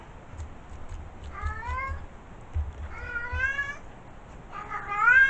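A domestic cat meows three times, drawn-out rising and falling calls spaced across a few seconds, fairly close and clear over a low rumbling background.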